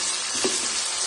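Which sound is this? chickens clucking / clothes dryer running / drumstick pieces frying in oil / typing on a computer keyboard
drumstick pieces frying in oil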